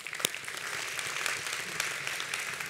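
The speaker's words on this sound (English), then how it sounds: "And you can clap for that." A church congregation applauding during a worship service, dense steady clapping from many hands filling the room, with a sharp louder clap early on.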